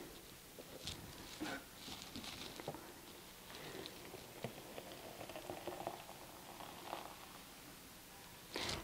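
Homemade almond milk is poured and pressed through a strainer, a faint bubbling, trickling liquid sound with soft patters and intermittent squelches, close and quiet.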